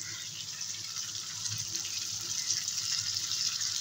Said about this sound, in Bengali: আর একটু জল দিয়ে দেবো।